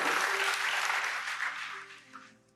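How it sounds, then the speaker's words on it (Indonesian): A church congregation at a night prayer service claps in loud, dense applause that fades out over a few seconds, with a faint musical tone underneath. "siapa yang percaya itu beri tepuk tangan buat Allah kita"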